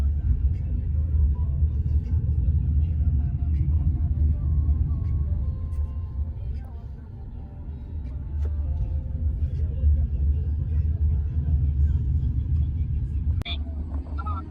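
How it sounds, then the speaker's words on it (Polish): A deep, continuous road rumble fills a car's interior on the drive home from an airport, steady for the whole stretch, with voices in the cabin. "Jesteśmy już w samochodzie,"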